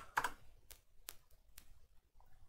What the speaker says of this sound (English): If I can type my website.